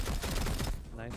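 Gunfire in the tactical shooter Rainbow Six Siege, a dense run of close, rapid shots packed together in a loud burst over about a second, with a voice talking underneath.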